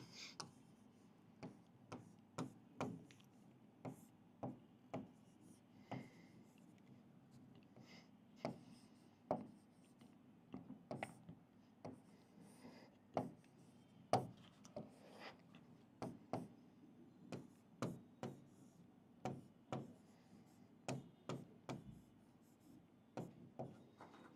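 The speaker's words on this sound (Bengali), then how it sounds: "আমি লিখে ফেলি আগে, তা বোঝাচ্ছি।" A formula being written by hand gives quiet, close, irregular ticks and scratches of pen or chalk strokes against a faint steady hum.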